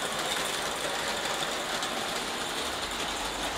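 A live-steam Aster Gauge 1 Titfield Thunderbolt model locomotive slips its wheels on indoor track, giving a dense, continuous hiss and rapid mechanical chatter, close and steady for the whole stretch, with no voices.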